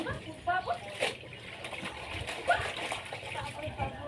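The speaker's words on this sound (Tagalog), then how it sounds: "Hugasan natin mga kaleps ang gulay." Vegetables being washed by hand in water for ginataang gulay: repeated splashing and sloshing in a basin, irregular and close, under ongoing speech.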